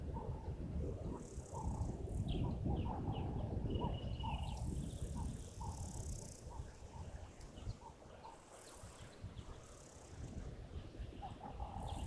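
Small bird chirping outdoors in open nature, short bright calls repeating over a steady droning background of insects or wind, fairly distant and moderately loud.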